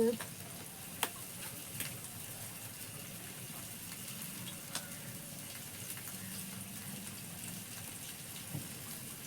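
Bangda mackerel frying in a pan over a wood-fired clay stove, giving a steady low sizzle and crackle with a few sharper pops, heard at close range with no talk over it.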